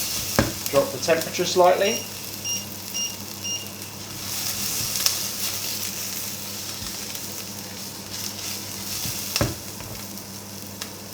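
Garlic and chillies hitting hot oil in a pan for a lentil and butternut squash curry, a loud burst of stirring clatter then a steady sizzle, with a voice talking briefly over it.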